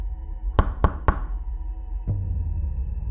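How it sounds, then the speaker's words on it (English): Three evenly spaced knocks on a front door, sharp and close, in quick succession, followed by a fainter single thud and quiet room tone. "At exactly 12, there were 3 knocks on our front door."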